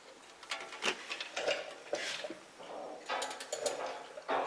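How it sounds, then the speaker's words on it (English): Slow, uneven ratchet clicks and metallic ticks while cranking during installation of a Legend LGT-700 5-speed transmission, fairly close, with a bright clattering texture and no talk. "So Brian, go ahead and let's start cranking slowly"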